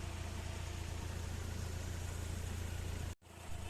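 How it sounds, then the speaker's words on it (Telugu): A 2015 Hyundai i20 Asta diesel engine idles steadily with a low, even hum, close and continuous, until a brief dropout near the end before it resumes. "ఇంజిన్ సౌండ్ కూడా స్మూత్ ఉందండి, ఇది కూడా చూసుకోవచ్చు."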